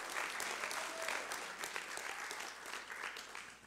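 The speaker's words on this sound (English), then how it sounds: "give him a hand clap." A church congregation claps together in steady, dense hand clapping that fills the room and holds for several seconds without a break.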